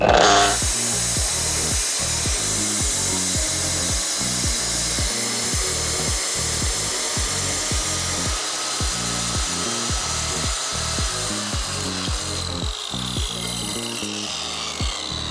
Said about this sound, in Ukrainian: Різати будемо бетонний блок.